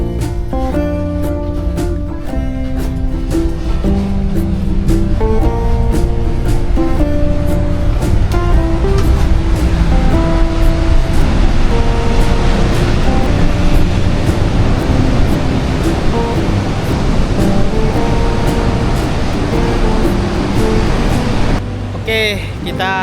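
Ocean surf at Gua Langir beach in Sawarna rolls in as a loud, steady wash of waves under a hot midday sky. Music plays over it throughout.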